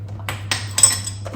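A few quick metallic clinks and scrapes of a fork stirring cottage cheese bread dough with baking soda in a bowl, over a low steady hum.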